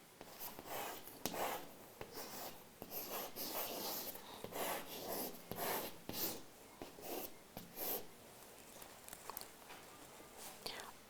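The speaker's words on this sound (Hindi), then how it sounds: "तो मैं इस मंत्र को पहले लिखता हूँ," A Vedic mantra being written out by hand produces a quiet, continuous series of scratchy strokes and short pauses, close and soft.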